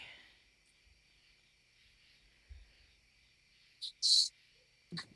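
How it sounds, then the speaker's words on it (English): Crickets chirping on an outdoor deck, a faint steady trill running throughout with a few brief louder chirps near the end and low background noise. "I hear all the crickets out in your deck there."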